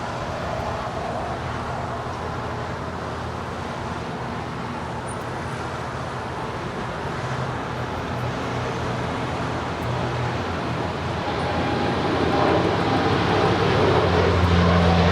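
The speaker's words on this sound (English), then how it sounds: "United 1471 Heavy now rolling on 25 right, heading out to Newark Liberty. It's a 787-10 Dreamliner." A United Boeing 787-10 Dreamliner rolls for takeoff on runway 25R at LAX, a steady, broad jet roar held at a distance that swells slightly louder toward the end, with no talk over it.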